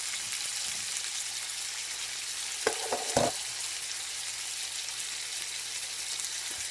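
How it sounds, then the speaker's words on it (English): Pork chops browning in a pan give a steady, close sizzle and fry hiss throughout, with a few brief clinks of utensils near the middle. "So while this is browning, well, first of all, let me put the seasoning on it."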